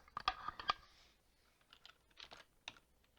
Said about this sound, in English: I'm going to type in what I want.